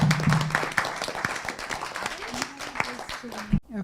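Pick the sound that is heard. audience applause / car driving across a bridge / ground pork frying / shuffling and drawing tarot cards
audience applause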